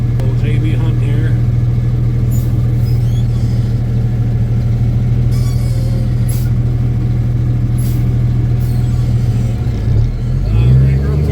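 M11 Cummins dump truck engine pulling through its gears, a loud, steady low diesel drone heard from inside the cab, with a shift and a change in engine note near the end and light clicks and rattles along the way.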